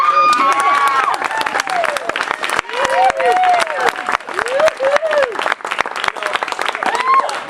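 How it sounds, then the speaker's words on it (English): Audience clapping at a grand opening event, steady dense applause mixed with crowd noise and a voice speaking over it, with a few rising whoops or whistles. "can you do me a favor and just do a bunch of clapping for this guy?"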